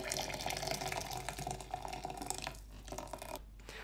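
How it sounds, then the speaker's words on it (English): Hot water poured over coffee grounds in a French press, a quiet continuous trickling pour with a faint splash, tapering off toward the end. "And pour the remaining half of your hot water over the coffee."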